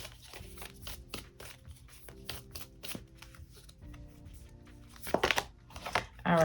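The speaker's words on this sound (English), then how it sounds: "Girl, if I could shuffle them." A deck of oracle cards is shuffled by hand in quick, crisp riffles and soft flicks, close and fairly quiet, ending in a louder burst of card noise.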